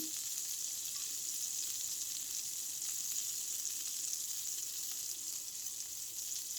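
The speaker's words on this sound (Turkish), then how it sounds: "Bakın sık sık çevirerek köftelerimi pişiriyorum." Köfte meatballs fry in a pan with a steady, bright sizzle that holds without pause, close and moderately loud with no voices over it.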